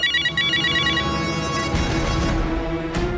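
A phone ringtone chirps in short repeated electronic bursts, then gives way to louder musical tones; no one speaks.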